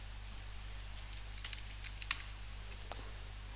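Light, scattered keystrokes on a computer keyboard tap out a short word, a few quiet clicks over a low steady hum with one slightly sharper keypress.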